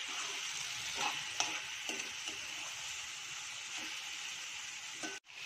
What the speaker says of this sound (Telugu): ఇప్పుడు టమాటా మిక్స్ చేసుకుందాం. టమాటా కూడా ఈ ఆయిల్లో బాగా వేగాలి.